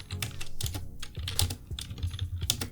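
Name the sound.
typing a terminal command on a computer keyboard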